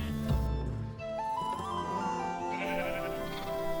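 A baby lamb in the Minecraft video game bleats, a loud, wavering cry lasting several seconds and heard alone without talk.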